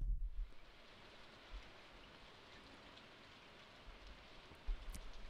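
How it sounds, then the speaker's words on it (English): Steady rain falling in Stardew Valley, a soft, even hiss of raindrops that holds throughout. It is quiet and diffuse, with a couple of faint low bumps near the start and end. "Something about the pitter-patter of raindrops that makes me more introspective"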